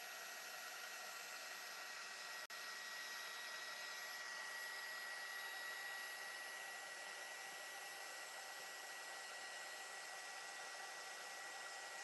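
A hair dryer blows over a gelli-printed art journal page, a steady, even whoosh that holds without pause from start to end, with no talking.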